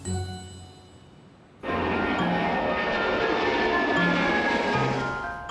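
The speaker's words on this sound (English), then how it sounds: "Planes keep on touching down, and it seems almost every flight is carrying pets." A plane lands at a busy airport: after a quiet stretch with faint hum, loud broadband jet roar cuts in abruptly and holds steady, close and dominant, with no voices.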